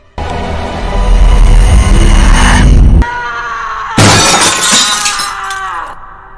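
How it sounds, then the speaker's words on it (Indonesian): A mirror shattering as a film sound effect: a loud, dense burst of breaking glass for about three seconds, a brief pause, then a second crashing shatter with tinkling shards that decays away. "Saat cermin pecah"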